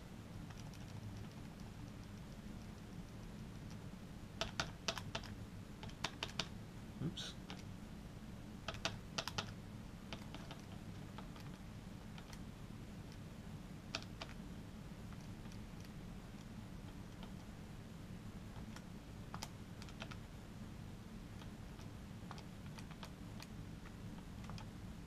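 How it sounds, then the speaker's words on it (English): Numbers are keyed into a calculator as soft, scattered button clicks in small bursts over a steady faint background hiss. "And typing this into the machine,"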